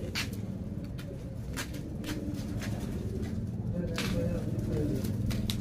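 Pigeons of Andhra kalsira and fulsira breeds coo softly at a bird sale in Dankuni, Hooghly, with repeated low calls and scattered sharp rustles, fairly quiet and near.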